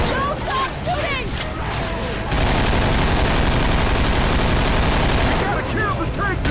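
Sustained heavy gunfire in Left 4 Dead 2, a team of survivors blasting away at the Tank, with a continuous loud rattle of automatic weapons that surges and holds through most of the stretch while voices call out over it.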